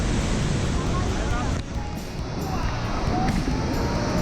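Iguazu Falls in Argentina, a loud, constant rushing roar of falling water heard close by, with a brief dip partway through and faint voices underneath.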